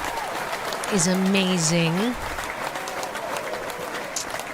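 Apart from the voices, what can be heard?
audience applause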